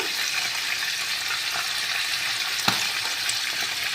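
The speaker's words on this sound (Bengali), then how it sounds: "মাছটা একটু ফুটছে," Hilsa fish pieces fry lightly in hot oil, giving a steady, dense sizzle that holds evenly throughout, with one small pop partway through and no talking.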